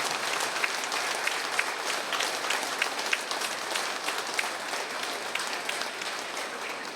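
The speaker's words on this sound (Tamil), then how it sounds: "நம்முடைய பெற்றோர்களுக்கு ஒரு கைத்தட்டல் கொடுத்து" A large audience at a student honouring ceremony claps for their parents, producing a loud, sustained round of dense applause with scattered sharper claps standing out.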